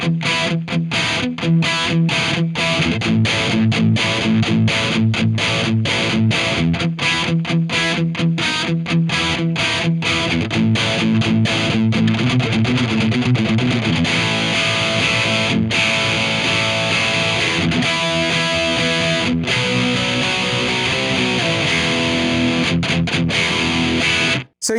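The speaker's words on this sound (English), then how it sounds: "The crunch channel on this amp" A guitar amp's crunch channel, gain set near eleven o'clock for classic rock, delivers continuous overdriven playing with thick distorted chords and riffs, loud and up front with no talking.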